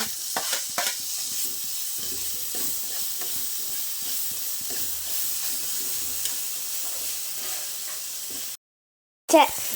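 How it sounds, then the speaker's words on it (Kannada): Tomatoes tipped into vegetables frying in a pan for a pasta dish, producing a continuous close sizzle and steamy hiss with scattered stirring scrapes, then a short silence and a final clatter. "ಈಗ ಟೊಮೊಟೊ ಹಾಕೋಣ."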